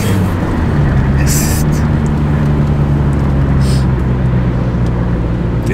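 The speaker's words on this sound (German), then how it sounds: "Und dann diese Ansauggeräusche." A G Power tuned car accelerates with loud intake noise, a dense, continuous engine roar heard close and steady throughout, with no pauses.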